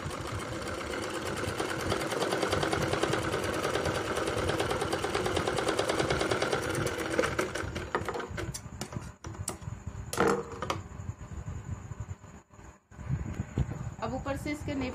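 Sewing machine runs fast and steady while stitching salwar fabric for a Punjabi Patiala salwar, then slows into short stop-start bursts with rattling pauses toward the end.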